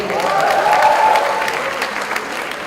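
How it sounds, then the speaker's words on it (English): Audience applause at an entertainment show's inauguration ceremony, a full, steady burst of clapping with some crowd cheering mixed in that eases slightly toward the end. "big applause for yourselves, please"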